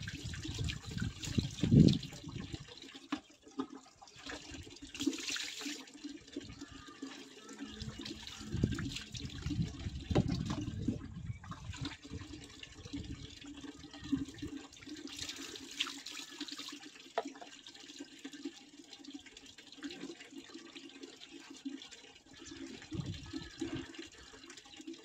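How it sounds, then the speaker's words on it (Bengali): Water running from a tap while hair is washed at home, a faint, uneven splashing and trickling that carries on for about twenty-five seconds, close by, with surges and shifts as the flow hits hair and basin, and no talk. "আমার জল শেষ হয়ে গেছে, জল ছেড়ে দিই"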